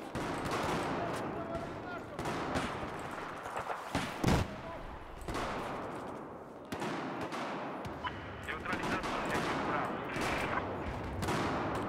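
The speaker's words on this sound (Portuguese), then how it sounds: "Rolou tiro ali" Gunfire in the video game Battlefield 1, scattered shots and short bursts crackling under a player's ongoing commentary, with one louder close report partway through amid a busy battle soundscape.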